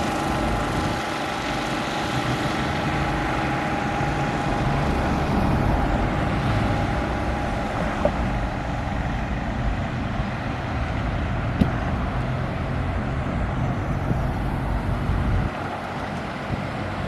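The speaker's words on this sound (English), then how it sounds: "See those cars going over the hill there?" Cars driving over a hill on a road near Covington, Georgia, a steady moderate traffic rumble with passing vehicle hum and a couple of faint clicks, no talking.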